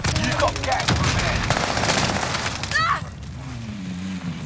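Rapid automatic gunfire from a video game rattles in dense bursts for about three seconds, then cuts off, with voices talking over and after it.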